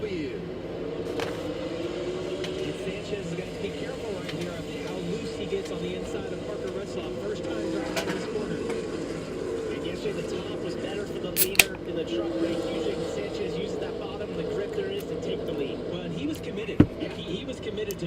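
Xfinity series race cars at Rockingham pulling away at the green flag, a low, rumbling engine drone heard at a distance under steady commentary, with a couple of brief sharp clicks.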